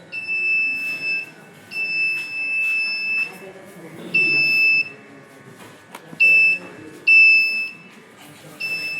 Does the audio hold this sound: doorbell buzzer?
yes